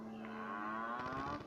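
A person imitates a cow mooing, one long, steady, nasal drone that holds its pitch and fades out after about a second and a half, close and fairly quiet, with no other voices.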